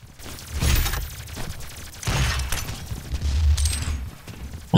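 Grenades go off in DOOM 2016 multiplayer as three or four loud, deep explosive bursts about a second apart, each one with a rumbling low tail, set against frantic in-game action.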